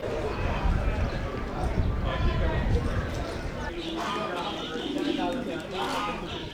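Several fancy breed pigeons cooing softly at an exhibition amid a busy indoor crowd at the FIARA fair, with scattered thuds and murmuring voices in the background.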